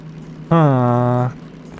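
The DM3 diesel locomotive with a gearbox in the railway game Derail Valley gives a loud, steady droning engine tone lasting under a second. Its pitch sags slightly before it cuts off into a low background hum.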